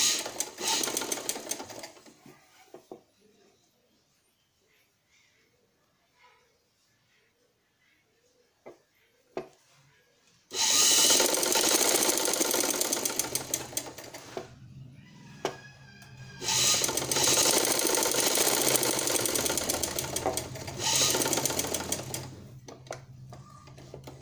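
Sewing machine stitching a strip of fabric onto a trouser, running in two long steady bursts after a quiet stretch of handling and small clicks.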